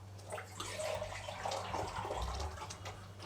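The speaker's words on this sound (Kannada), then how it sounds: "ಸ್ವಲ್ಪ ನೀರು ಹಾಕ್ಕೊಂಡು" Water poured into a cooking pot while making chicken sambar, a close, splashing gush that swells and fades over a few seconds with a low hum beneath.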